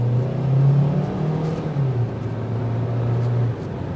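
A 2024 Hyundai Kona Limited engine revs up and eases back down twice, a moderate, close whir and hum that then settles to a steady idle.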